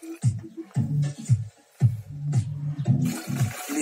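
Water gushes in repeated bursts from a tap being opened and shut into a five-litre container, loud and close, with short pauses between the surges.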